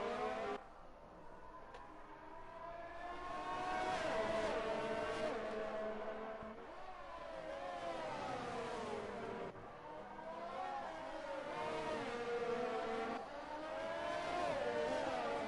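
Several F1 race cars in the F1 2019 video game scream out of a corner at Monaco, their high engines climbing in pitch through repeated gear changes, overlapping as they pass one another, loud and continuous with no talk.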